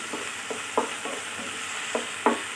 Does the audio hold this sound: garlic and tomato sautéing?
yes